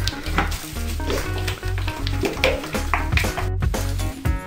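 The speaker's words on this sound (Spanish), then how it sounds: "Y ahora solo hay que remover." Casting Creme Gloss hair dye in shade 834, amber blonde, is stirred in a container, giving a continuous close, wet, sizzling scrape with a few taps over a steady background hum.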